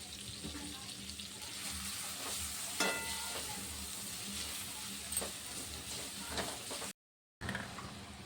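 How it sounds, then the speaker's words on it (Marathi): Chopped onion sizzling steadily in a hot pan for pav bhaji, a soft continuous crackle with occasional stirring clinks and a brief dropout near the end. "आता याच्यामध्ये मी टाकणार आहे कांदा असं कांदा छान लाल होईपर्यंत परतून घेणार आहे"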